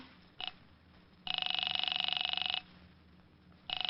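An old telephone rings in short buzzing bursts: a brief blip, then a long trilling ring, then another starting, heard faintly as if through a line.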